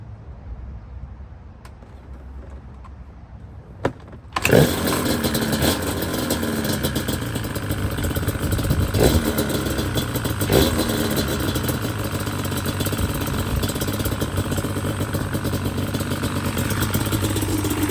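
A Yamaha Banshee ATV engine fires up without choke after a few quiet seconds, then settles into a steady, loud, close-up idle with a crisp, even running note and no talking.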